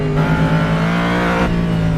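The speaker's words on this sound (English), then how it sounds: "got a car here coming by on the left side, flying by on the left side" A race car in the rFactor 2 racing game at Sebring International Raceway flies past on the left, a loud steady engine drone that shifts pitch abruptly as it goes by, with no talk.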